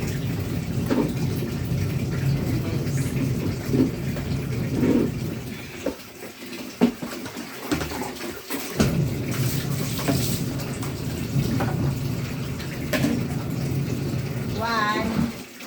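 Water runs steadily into a basin filled for laundry, a continuous splashing rush with brief pauses, while a person talks over it nearby.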